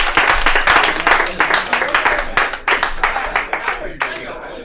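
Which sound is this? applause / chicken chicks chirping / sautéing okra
applause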